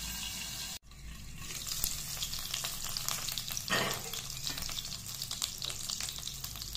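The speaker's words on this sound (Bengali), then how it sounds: "তেলে দিলাম পনির, পনিরটা একটু ভাজা হোক" Paneer pieces fry in hot oil in a kadhai, starting after a brief cutoff into a steady, close crackling sizzle that swells slightly midway, with no voices.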